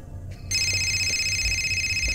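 A telephone rings in the Fahrenheit Indigo Prophecy video game, a steady electronic ring that cuts in suddenly and holds loud over a low hum.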